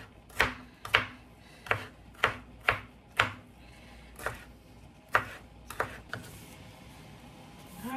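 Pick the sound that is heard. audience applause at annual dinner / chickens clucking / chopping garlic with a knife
chopping garlic with a knife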